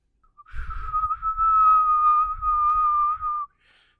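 A person whistles by mouth in imitation of a referee's whistle at a Gaelic football match, one long steady high tone lasting about three seconds, close and fairly loud, ending abruptly.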